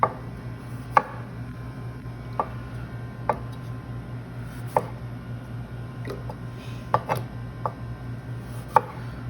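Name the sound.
knife cutting and squaring up a vegetable on a board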